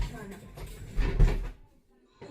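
A kitchen door is pulled shut partway through, a single muffled thud among soft room noise, with voices talking around it.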